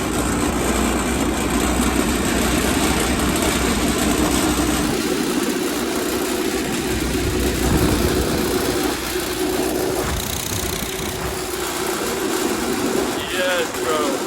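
A go-kart engine runs continuously while driving on a street, a loud, steady buzzing drone with slight shifts in pitch as the kart moves along.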